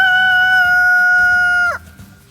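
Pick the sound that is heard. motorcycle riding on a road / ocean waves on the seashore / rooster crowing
rooster crowing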